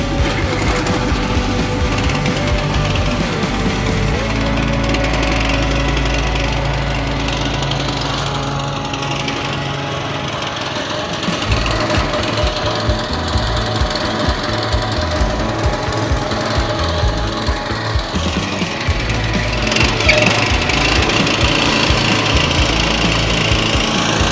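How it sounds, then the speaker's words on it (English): A lawn scarifier runs over a ten-week-old lawn with a loud, continuous rattling engine drone that keeps a heavy, churning texture for over twenty seconds, and no one speaks. "So with any machines like that, your Scarifiers, your Verdimowers, I kind of wind it down to a depth I feel should be pretty good."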